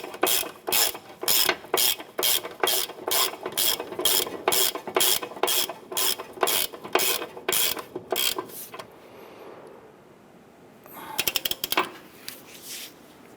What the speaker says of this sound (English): Get and snug down that nut.